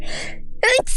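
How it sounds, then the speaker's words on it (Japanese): A forceful sneeze from a streamer during live gameplay commentary, a rising gasp then a sharp double burst, loud and close, with voice heard just before. "ちょっと豪快にくしゃみしちゃった。"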